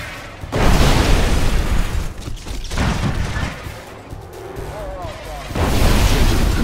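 Heavy booming blasts from an artillery bombardment in Command & Conquer: Kane's Wrath roll in waves, loud and close, swelling near the start and again toward the end with rumbling between impacts.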